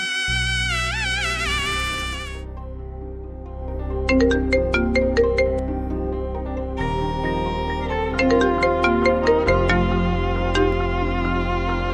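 A phone ringtone plays a bright, repeating electronic melody over a steady backing, continuous and fairly loud throughout.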